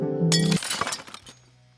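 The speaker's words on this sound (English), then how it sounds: "He shatters the Earth Crystal" Earth Crystal shattering in the video game Final Fantasy 5: a bright glassy crash with clinking shards scattering over a held synth tone, trailing off into a low sustained hum.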